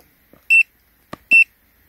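Two short electronic beeps from an OBD2 car code reader, clear and close, spaced under a second apart with a faint click between them.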